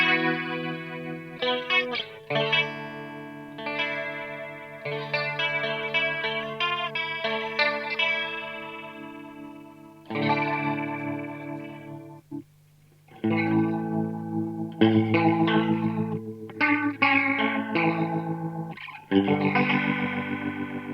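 Electric guitar through a NUX Mod Core modulation effects pedal, playing chords and short melodic phrases with a shimmering, warbling modulated tone and some grit, loud and close with brief pauses between passages.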